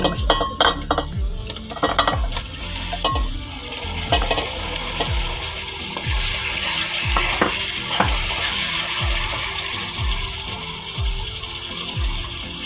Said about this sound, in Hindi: प्याजों को बस आपने थोड़ा सा सौते करना है।